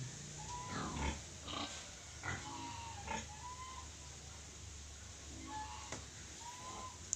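Native pigs and piglets on a rural farm, giving scattered soft grunts and occasional squeals at moderate distance, with faint bird calls in the background and no talking.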